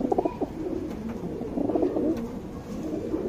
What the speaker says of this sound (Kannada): ಇದು ಗಂಡು ಪಟ್ಟ, ಇದು ಬಿಟ್ಟಿಲ್ಲ, ರೆಕ್ಕೆ ಹೊಡೆದಿಟ್ಟಿರೋ ಪಟ್ಟ ಇದು.